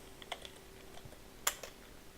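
Sparse clicks of typing on a damaged computer keyboard, a few separate keystrokes with one sharper, louder press in the middle, close by and with no talk.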